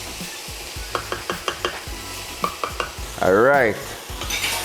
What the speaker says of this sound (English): Curry is burning off proper.